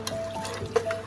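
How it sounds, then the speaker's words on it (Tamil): Water, two cups, pouring into a pot for mint rice, a brief soft trickle and splash heard close, with no talk. "தண்ணி 2 கப் ஊற்றுறேன்."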